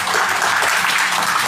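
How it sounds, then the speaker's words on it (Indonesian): A gathered audience applauds a friend at a spiritual talk, giving a short, steady burst of dense clapping at moderate volume. "Tepuk tangan buat sahabat."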